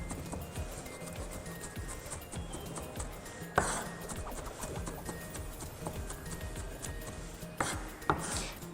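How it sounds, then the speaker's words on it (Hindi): Corn is finely chopped with a knife for an Iftar recipe: rapid, rhythmic strokes tap close against a board, with a couple of louder clattering knocks along the way. "कॉर्न को बारीक चॉप कर लेंगे।"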